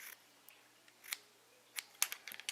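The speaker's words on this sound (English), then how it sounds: "And then we're going to cut that off" Scissors snip through paracord for a lanyard in a few quiet, sharp close cuts with short pauses between them.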